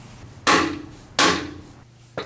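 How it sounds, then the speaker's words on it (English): A rubber mallet strikes the axle of a Morse taper bottom bracket on a Star Trac Spinner exercise bike, landing three sharp blows, the first two with ringing decay and a lighter third, close and with no talk. "you will need your rubber mallet and you will have to strike it at the center to push it in"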